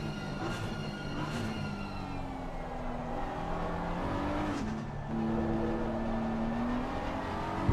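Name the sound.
race cars on track at Silverstone circuit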